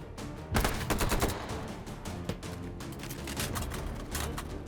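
Rapid gunfire in a video game, a burst of closely spaced loud shots followed by scattered single cracks and another run of fire, sharp and near.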